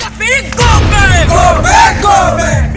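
A large crowd of Gorkha students shouts in protest, a loud, close mass of yelling voices rising in ragged unison chant-like swells.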